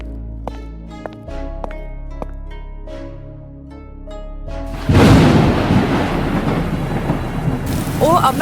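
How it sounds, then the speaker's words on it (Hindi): Heavy rain pours down with thunder rumbling, loud and close, after a quieter stretch of soft tones and light sounds at the start. "बाहर कितनी तेज बारिश हो रही है"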